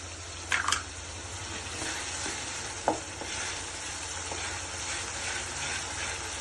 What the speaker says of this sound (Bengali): এটাকে সবটা একসঙ্গে একটু নাড়তে থাকলাম, একটু সেদ্ধ মতো যাতে হয়ে যায়।